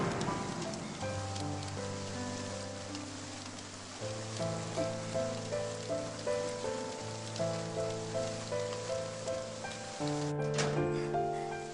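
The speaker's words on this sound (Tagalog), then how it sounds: "Ang lakas ng ulan!" Heavy rain patters on a surface beneath sustained music, a constant wash of droplets at moderate loudness.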